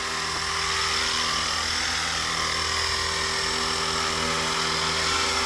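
Outdoor power equipment, a leaf blower, roars loud and close as a steady broadband whoosh with a droning motor tone, running continuously and alone without talk.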